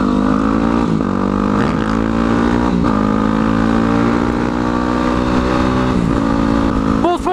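A motorcycle engine roaring near wide open throttle in sixth gear, loud and sustained with a steady drone, while wind noise rushes past the rider.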